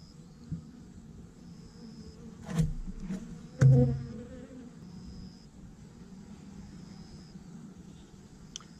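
Honeybees hum in a low, steady drone during a hive inspection, with a few louder knocks and thumps from handling the hive frames partway through and a faint high whine above.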